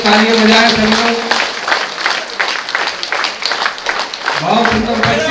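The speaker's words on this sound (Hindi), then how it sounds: "इसके लिए आप हाथ ऊपर करके तालियां बजाएं सब लोग" A crowd at an eye surgery camp gathering claps together, a loud dense burst that thins and eases, then swells again as a voice speaks over it near the end.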